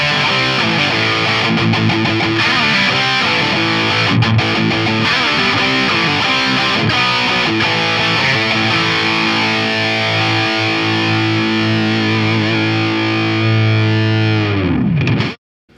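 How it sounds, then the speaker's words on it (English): Charvel electric guitar in standard tuning played through a Marshall JCM 900 amp, loud distorted chords and riffs ringing continuously for about fifteen seconds before cutting off abruptly, no talking. "This is just the amp tone here."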